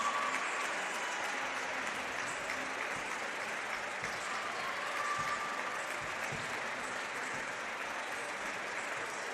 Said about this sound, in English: A round of applause from the fans.